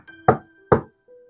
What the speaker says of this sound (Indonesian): tiba-tiba pintu depannya ada yang mengetuk